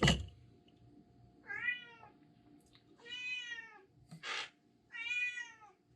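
A visiting cat meows three times in a quiet room, each cry drawn-out and moderately close, with a sharp clatter at the very start and a faint steady hum underneath.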